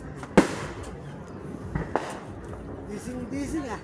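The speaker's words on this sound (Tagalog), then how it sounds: "Ganda ng fireworks, oh." New Year fireworks go off outdoors at midnight, with a sharp close bang, several more distant cracks and pops, and people talking and chattering underneath.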